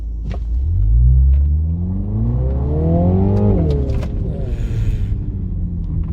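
A 306 hp MINI John Cooper Works Countryman with a four-cylinder engine and ZF eight-speed gearbox launches hard, its engine note climbing loudly through the revs, dipping at a shift, then pulling on with a steady rumble.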